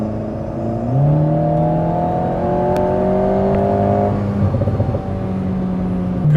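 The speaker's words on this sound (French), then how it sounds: "On va faire un petit essai de l'Alpine, première fois que j'en conduis une." An Alpine A110 Pure sports car on Chartreuse mountain roads, heard from inside as the engine note climbs through the gears, a steady loud drone that rises, drops at a shift, then pulls again.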